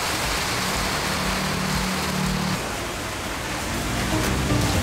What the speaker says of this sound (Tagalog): And, as if on cue, it started raining.